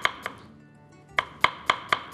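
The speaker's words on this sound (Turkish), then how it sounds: "minik minik soğanımızı doğrayalım" A knife chops onions on a board in sharp, distinct cuts: two knocks, a pause, then four evenly spaced strokes, close and clear with no talking.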